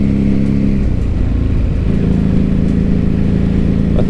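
A 2006 Ducati 749 motorcycle engine roars steadily while riding, loud and close throughout, with a brief dip and shift in pitch as it changes gear partway through, no voices over it.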